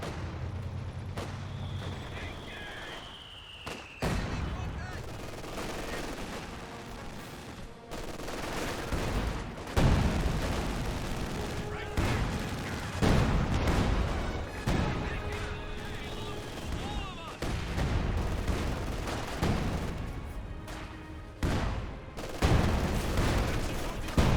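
MG42 machine gun fire rattles through a Company of Heroes 2 battle in steady bursts, mixed with other gunfire and heavy booms, while a commentator talks over the action.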